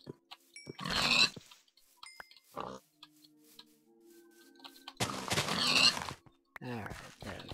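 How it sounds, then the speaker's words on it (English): Pigs grunt and oink in a Minecraft survival game, two loud bursts of snorting and squealing separated by quieter game sounds and clicks, with a final short grunt near the end. "Couple pigs."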